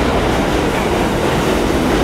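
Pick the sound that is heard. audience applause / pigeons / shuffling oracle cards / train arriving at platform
train arriving at platform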